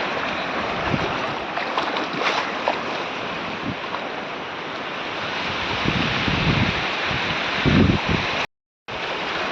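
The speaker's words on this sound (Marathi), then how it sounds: "पूर्ण सपाट समुद्र आहे हा" Flat, calm open sea washes in a steady, soft surf wash mixed with light wind noise, continuous and close, with a brief dropout near the end.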